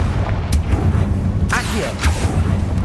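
A spell explosion in Hogwarts Legacy, the Confringo curse, bursts as a short boom with a crackling swoosh, set in dense rumbling battle noise that keeps on under it.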